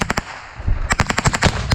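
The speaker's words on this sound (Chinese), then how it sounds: "暗夜突袭，俄军的 BM-21火箭炮猛力开轰" A Russian BM-21 rocket launcher fires at night near Bakhmut in a rapid salvo of loud, sharp cracks, with a brief lull before a dense volley of closely spaced blasts.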